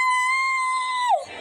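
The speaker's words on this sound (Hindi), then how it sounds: "तभी नीलू के कान में किसी के चिल्लाने की आवाज आती है।" A horror-story scream effect sounds: one long, high, steady shriek, close and loud, that bends downward and breaks off near the end, with no talk over it.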